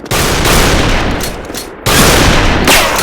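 Sustained rapid automatic M4 rifle fire in a video game, loud and dense, with a brief dip before another burst resumes; no talk.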